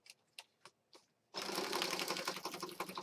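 A few light clicks come before a sewing machine starts up, running in a loud, rapid mechanical chatter while stitching around the perimeter of a planner journal kit.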